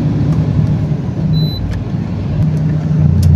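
Road traffic in the town of Rosario gives a steady, close rumble of engines and tires with a few faint clicks and squeaks over a constant low drone.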